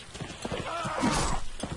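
A horse whinnies after taking a hit in the medieval combat game Mount and Blade Warband, with clopping hooves underneath and a short cry rising in the middle of a busy stretch of battle noise.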